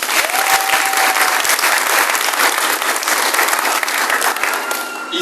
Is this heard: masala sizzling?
no